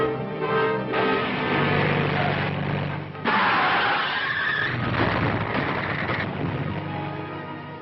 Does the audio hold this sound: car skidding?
yes